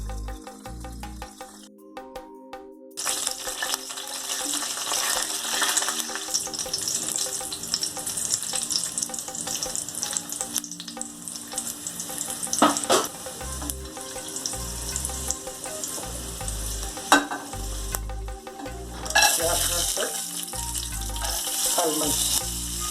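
Dried white and black grapes and almonds frying in ghee in a heavy pan, a loud bubbling sizzle with intermittent stirring and clatter after a brief quiet start.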